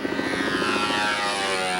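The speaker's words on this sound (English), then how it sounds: "And we have our friend the helicopter." A traffic helicopter passing low over an airfield where a B-25 is being started, heard as a steady, loud rotor and engine drone with a faint pulsing chop throughout, no voices.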